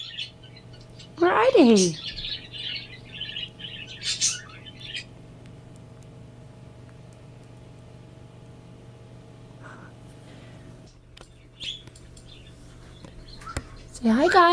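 Pet budgies give a brief burst of chirps and tweets near the start, then quieter scattered calls and a few more chirps at the end, all under a voice talking to them indoors.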